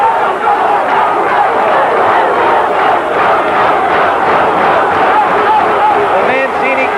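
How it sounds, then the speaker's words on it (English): A boxing crowd roars steadily and loudly for challenger Ray 'Boom Boom' Mancini against champion Alexis Arguello at a WBC lightweight title fight in an Atlantic City casino hotel. A commentator's voice runs beneath the dense cheering. "The Mancini crowd comes alive, urging on this exciting young challenger"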